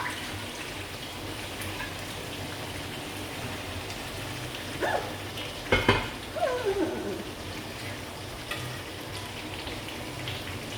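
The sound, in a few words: water added to pan of simmering mutton, frying sizzle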